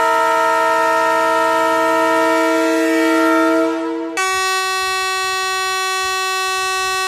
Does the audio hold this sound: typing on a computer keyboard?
no